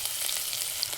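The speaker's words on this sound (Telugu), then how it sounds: "ఆనియన్స్ ఇవన్నీ వేసి ఫ్రై చేయాలి" Spices and onions fry in a little oil for a chicken curry, with bay leaf, cloves, cinnamon and shahi jeera in the pan, giving a steady close hiss and crackle with no talk.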